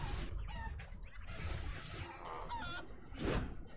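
Cartoonish chicken clucks and squawks in the Guacamelee video game on PC, several short bursts over busy game music and effects, moderately loud.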